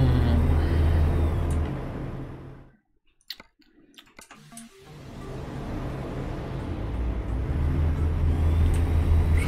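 A truck's engine drones loud and steady in American Truck Simulator, drops out briefly midway with a few sharp clicks, then swells back to a continuous rumble.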